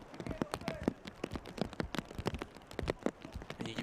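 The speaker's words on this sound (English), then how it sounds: "And you can hear it, the rain just coming down even heavier now." Heavy rain pelts a soccer pitch during a men's college championship quarter-final, with a dense, irregular patter of sharp drops striking close to the microphone throughout.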